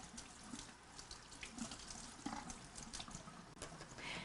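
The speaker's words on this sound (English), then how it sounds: "Then rinse the brush and remove any lint from the brush tufts." Running tap water streams steadily into a sink while a Kirby G4 vacuum brush roll is rinsed under it, a continuous close splashing hiss with small shifts as the brush moves through the flow.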